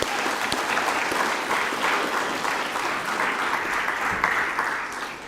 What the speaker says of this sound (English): We'll give her a round of applause in her absence.